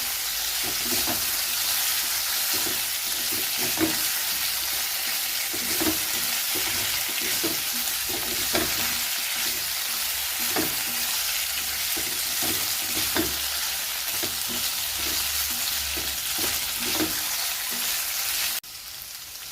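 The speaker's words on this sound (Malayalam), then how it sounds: "ഈ നെയ്യിൽ കിടന്ന് നന്നായി ഒന്ന് വഴറ്റണം" Cooked pumpkin sautéed in ghee for a sweet dish, a long, even sizzle with frequent spoon scrapes as it is stirred, close by and without talk, ending in a brief quieter tail.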